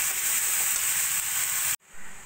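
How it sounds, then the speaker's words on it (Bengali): Banana stem curry with potato, papaya and spices stirred and fried in a pan, a loud continuous hissing sizzle that cuts out abruptly and then returns more faintly. "থোড়টা এবার ভালো করে তরকারির সঙ্গে মিশিয়ে নেব।"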